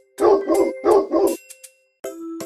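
A cartoon dog in a kids' animal app gives four loud, evenly spaced barks in quick succession, followed by a couple of small yips and a longer bark-like tone, close and clear with no talking.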